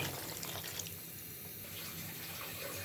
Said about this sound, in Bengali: এখন আমি পানি দিয়ে দিচ্ছি জল